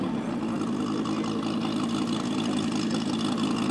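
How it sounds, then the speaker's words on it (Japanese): A 1/3-scale model Mitsubishi A6M Zero idles while taxiing at a scale aircraft meet, producing a steady, mild, even engine drone that stays close and constant throughout. "マイルドなエンジンサウンドのタクシーバッチです。"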